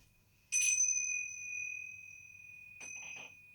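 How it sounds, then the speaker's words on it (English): Two light metal chimes ring out as a small set is placed down on a home shrine, a bright sustained tone at the start, then a second softer double strike near the end, decaying alone with no talk. "I have a spare set of chimes."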